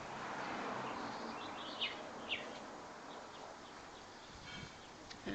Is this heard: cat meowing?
no